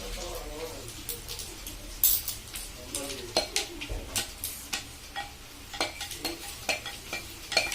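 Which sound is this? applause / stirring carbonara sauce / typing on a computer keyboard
stirring carbonara sauce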